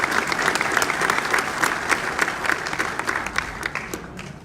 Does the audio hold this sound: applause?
yes